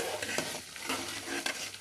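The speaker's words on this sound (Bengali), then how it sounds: "এই দেখো পায়েস হচ্ছে।" Payesh, a Bengali rice pudding, bubbling in a pot while a spoon stirs it, giving soft rhythmic scrapes and light sizzling repeated every half second or so, close and fairly quiet with no talk.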